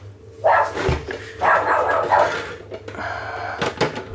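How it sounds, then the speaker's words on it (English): A dog barks indoors in several short bursts, moderately near, followed by softer yips and scuffling sounds. "That's my dog barking."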